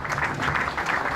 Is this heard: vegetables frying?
no